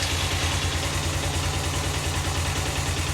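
A Suzuki GS500F motorcycle engine idling after a key start with the choke off, a steady low rumbling throb held close and even with no revving.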